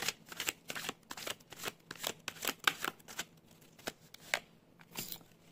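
Tarot cards being shuffled and drawn, a quick succession of crisp papery riffles and flicks in irregular bursts, close and fairly quiet, with no talking over them.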